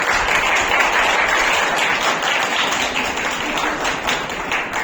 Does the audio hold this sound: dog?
no